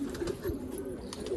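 Soft, low pigeon cooing repeats steadily from a rooftop, with a rolling throaty rhythm close by and no voices.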